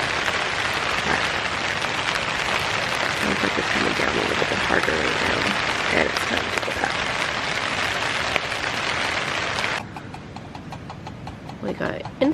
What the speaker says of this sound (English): It's raining. It's raining all night. Sounds like it's coming down a little bit harder right now.